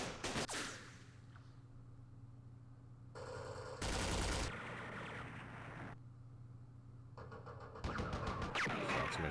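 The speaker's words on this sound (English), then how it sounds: "That's a machine gun" Machine gun fire crackles in broadband bursts during a Vietnam war strategy game set at the Battle of Dak To, with a loud rattling volley near the start and more bursts later over a steady low rumble.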